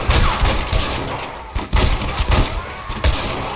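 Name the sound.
gunfire in the video game Red Dead Redemption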